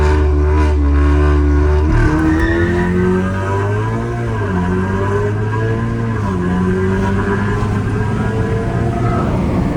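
Audi S3 Stage 2 with a Milltek exhaust launching hard under launch control, its engine note climbing through rising revs with a brief shift dip, loud and close throughout.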